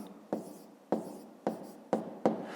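A pen writes out a math solution on paper, giving five quick scratchy strokes in a row, close and fairly quiet.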